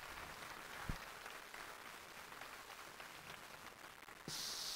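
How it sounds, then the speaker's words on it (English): Faint, distant applause from a concert audience in a London church hall, a soft continuous patter of clapping with one sharp knock midway and a hiss rising near the end. "Round of applause"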